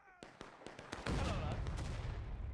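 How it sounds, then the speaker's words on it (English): A cannon fires in the Civil War shooter War of Rights, a sharp boom following a run of scattered musket-like cracks and leaving a broad rumbling roar, with faint talk beneath. "that cannon went off in that guy's face"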